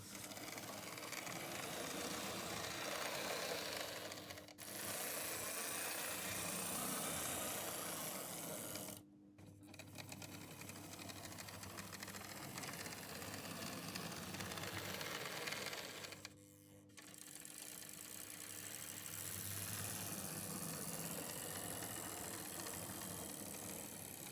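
A Lima BR403 HO scale model train motor runs with a steady close whir and mechanical buzz, broken by two brief pauses, after a cleaning of the mechanism and wheels.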